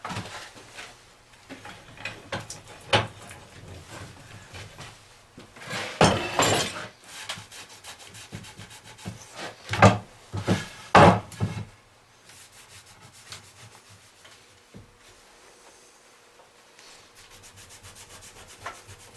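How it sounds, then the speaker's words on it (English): Excess glue being wiped off a finished wooden picture frame joined with dowels, soft rubbing and scuffing strokes up close with a few louder swipes mid-way, no talking. "I'll wipe the excess glue off of the finished frame here"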